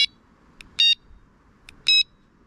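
A carp fishing bite alarm receiver gives short electronic beeps as it is switched on, two longer tonal bursts with fainter chirps between them, close and loud against a quiet background.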